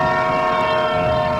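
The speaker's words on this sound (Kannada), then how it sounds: "ಟ್ರೈನ್ ಶಬ್ದ ಬಂತು ಮತ್ತೆ." A train in a mobile driving game, a loud sustained horn-like tone with steady rumble beneath, brief and close, no speech.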